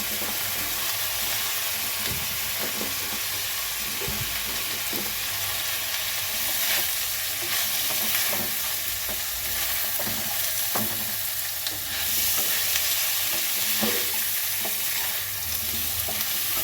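Broccoli and capsicum stir-fry in a pan with a continuous close sizzle, broken by irregular clicks and scrapes of stirring.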